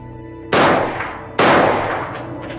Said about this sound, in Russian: Как будто бы и не я стрелял, никакой отдачи.